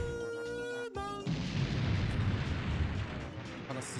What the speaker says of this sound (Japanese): すげえ爆発